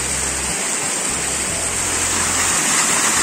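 Small waterfall in a ravine along a hiking route, a steady broadband rush of falling water filling the scene continuously, loud and close, with no talk.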